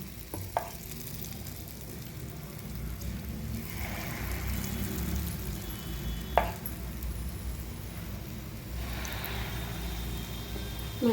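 Burelu batter fries in hot oil with a continuous close sizzle and bubbling, broken by a few sharp clinks of a utensil against the pan.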